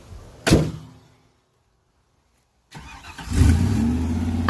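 A Honda sleeper car starts with a sharp burst and then goes quiet for a moment. Its engine then fires up and revs into a loud, steady rumbling idle close by, with no talking.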